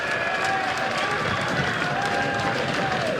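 Cricket crowd at an Australia v Bangladesh Test match, a steady, dense wash of applause and cheering that holds at an even level throughout.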